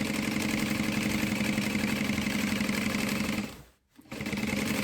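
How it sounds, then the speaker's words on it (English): A sewing machine quilting fabric pieces for a lunch box, a loud, steady, fast mechanical whir that runs close and unbroken, briefly stops, then starts up again. "Okay, so I'm gonna quilt this."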